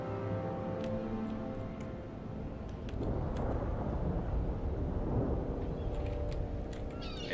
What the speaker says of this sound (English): Why is this storm here, man?